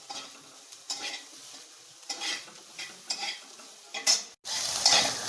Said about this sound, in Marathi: चांगलं असं परतून घ्यायचं लाल होईपर्यंत